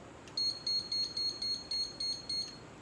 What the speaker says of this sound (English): I'm gonna set my timer for 8 minutes